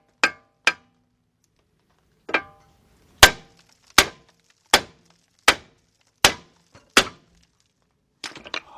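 A Thor hammer strikes the left drive axle of a 2004 Hyundai Elantra 2.0 automatic to shock it loose: about ten sharp, loud metallic blows, spaced roughly a second apart, then lighter clatter.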